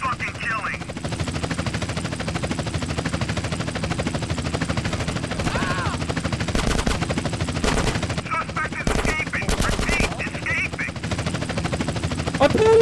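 Gunfire in GTA San Andreas, rapid automatic bursts rattling continuously with a helicopter-like drone beneath and sharp louder volleys, while a voice talks over the action.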